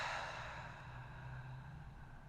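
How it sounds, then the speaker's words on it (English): A slow, soft exhale out through the mouth during a morning breathing exercise, a faint, breathy release that gradually fades, heard alone. "exhale out through the mouth"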